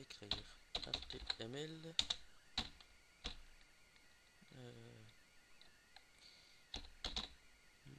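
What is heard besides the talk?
typing HTML on a computer keyboard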